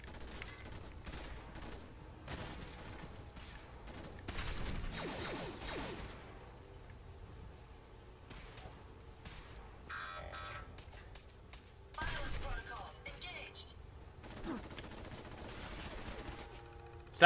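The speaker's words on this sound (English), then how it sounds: "Stop shooting me!" Scattered gunshots and bursts of automatic fire ring out in the video game Fallout 4, coming in irregular clusters of sharp cracks at moderate loudness, with a few thuds and whooshes between them.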